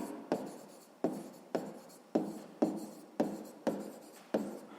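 Handwriting out a math solution, a steady run of about nine short scratchy strokes at a regular pace, close and fairly quiet, with no talking.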